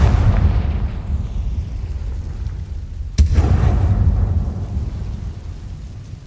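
A Confringo fire spell explodes in the video game Hogwarts Legacy, a deep rumbling roar that flares into a sharp, loud burst midway, then rolls on as a sustained booming wash.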